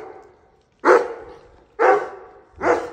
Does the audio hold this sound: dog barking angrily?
yes